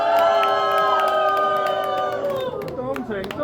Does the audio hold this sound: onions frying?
no